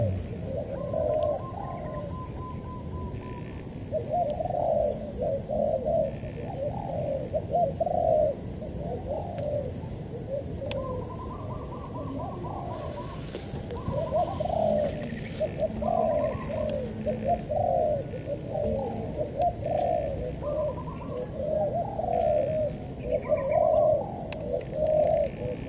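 Spotted doves coo outdoors at a dove-trapping spot. Repeated low rhythmic calls sound from several birds, some near and some farther off, continuing steadily over faint background noise.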